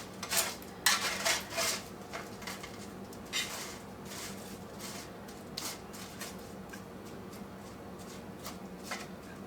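Dishes and cutlery clatter as rice, beef tips and maple garlic roasted Brussels sprouts are plated, with a burst of scraping and clinks at first, then lighter intermittent taps.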